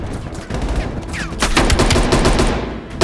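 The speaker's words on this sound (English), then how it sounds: "Watch it, heavy MG on the ridge." Heavy machine gun fire from a ridge in the video game Call of Duty Black Ops Cold War: dense, loud rattling bursts that keep going for several seconds with no break.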